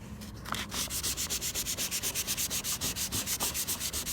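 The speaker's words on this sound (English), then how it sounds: "So I'm gonna sand this, flat this one out a little bit." Hand sanding of lifting clear coat on a carbon fiber hood: quick, even back-and-forth rasping strokes, close and steady in rhythm, with no talking.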